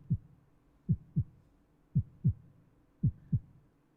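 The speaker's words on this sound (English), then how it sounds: "we have a heartbeat of an attack. So this is what a heartbeat sounds like." A video game heartbeat cue signalling an attack: low thudding double beats, lub-dub pairs repeating about every second, clean and isolated with no talk.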